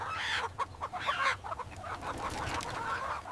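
Chickens being taken to market for sale cluck in a rapid, irregular series of short calls, fairly close, with no talk over them.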